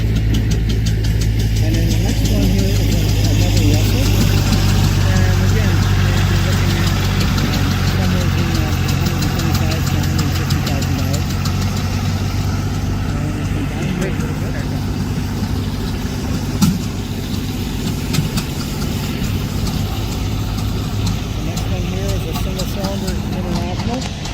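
A heavy antique Titan 10-20 tractor engine idles steadily with a low, throbbing rumble and faint knocking at a steam threshers reunion in western Minnesota, running continuously with people talking now and then underneath.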